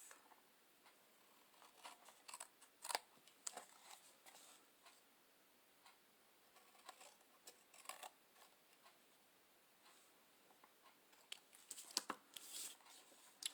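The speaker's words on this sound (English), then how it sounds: "Now I'm just going to come in with my scissors and snip it off." Scissors snipping glued paper for a Christmas photo tag ornament, a series of faint, close, irregular clicks and snips in a quiet room.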